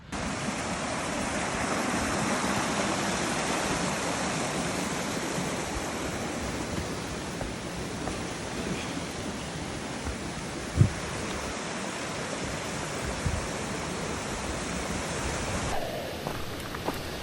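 A creek flows beside a mountain trail in the Adirondack High Peaks, a steady broadband rush of water that holds constant and fairly loud throughout, with no talk.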